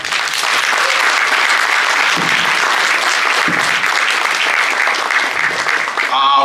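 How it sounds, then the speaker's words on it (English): A crowd at a youth sports award celebration claps loudly and without a break for a round of applause, with some voices mixed into the sustained ovation. "Big round of applause."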